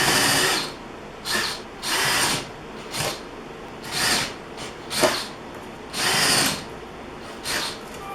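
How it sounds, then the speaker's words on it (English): Power drill with a 1/4 inch bit boring holes through a template for mounting an air hose reel, about nine short whirring bursts of varying length separated by brief pauses, close and loud. "what I'm gonna use is a 1/4 inch drill bit. So all I'm gonna do is drill holes into the template"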